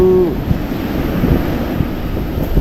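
Strong wind at sea buffets the microphone in a constant rumbling roar, with water sloshing underneath and no voices.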